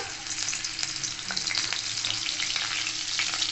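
Chopped green chilli fries in white oil in a wok, giving a continuous bright hiss and crackle that holds steady throughout, close and alone with no talking.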